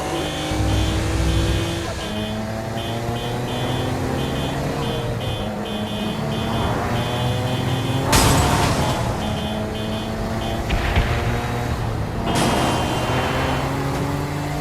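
A car in the video game Saints Row: Gat Out of Hell drives on continuously with a loud engine that rises and falls through gear shifts, with bursts of noise and bumps along the way.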